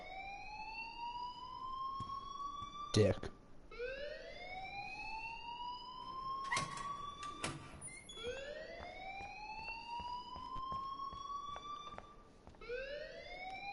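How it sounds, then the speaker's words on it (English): Alarm siren in the video game Life is Strange, rising whoops that repeat about every four seconds and are broken by sharp clanks, with a brief spoken word. "please turn off that alarm since that's your job."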